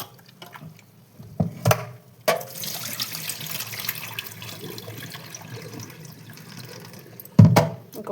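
Red lentils for tomato dal being rinsed and rubbed by hand in water, with splashing and swishing that swells at the start and again near the end, close and fairly loud, with no talking.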